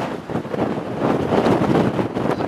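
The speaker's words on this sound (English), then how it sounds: "Out in the wind again." Wind gusts across an exposed hilltop at a former RAF station turned military transmitter site, a loud rough buffeting rumble that swells and dips against the microphone with no talking.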